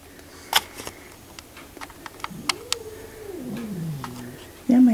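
A pet cat fusses close by with a soft rising and falling moan, among a few light clicks and rustles of handling, then gives a short louder vocal at the end.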